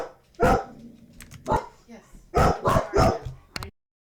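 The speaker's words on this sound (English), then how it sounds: "There's a mouse outside and the dogs aren't happy about it." Dogs bark at a mouse outside, several loud, close barks in irregular bursts, some quick pairs, ending abruptly.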